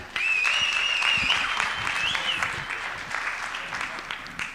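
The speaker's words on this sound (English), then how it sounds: "a round of applause for the director of the General Assembly, Ms. Mona Sadia" An audience at the 11th WSPU General Assembly claps steadily for the assembly's director. The applause is full and close, with a whistled tone rising above it, and it slowly fades.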